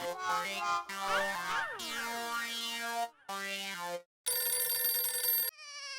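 A telephone rings in a tonal, melodic electronic pattern, loud and close, with brief gaps before the ringing resumes in a brighter, higher tone; no one speaks over it.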